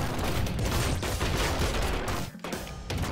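Dense, continuous barrage of boss bullets and gunfire in the action roguelike ScourgeBringer, loud and relentless with only a brief dip near the end.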